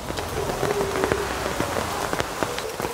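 Rain falling on a home garden, a dense steady patter with sharp individual drops hitting leaves and surfaces up close, fairly loud and continuous, with no talking.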